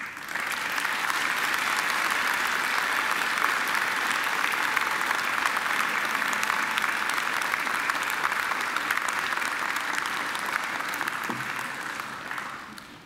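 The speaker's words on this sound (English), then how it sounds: "And now I ask you to give them a mighty round of applause." Sustained applause from a large graduation ceremony audience, steady and loud for the whole stretch, with no voices rising above the clapping.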